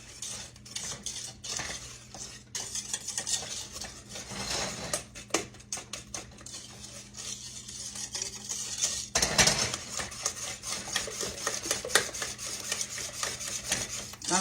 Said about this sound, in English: Okay, let's put some cornstarch. I'm going to mix that up real good.